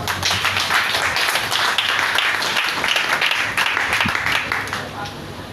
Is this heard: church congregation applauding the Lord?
yes